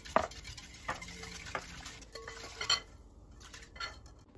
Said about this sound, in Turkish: Evet, tüm malzemeyi karıştıralım.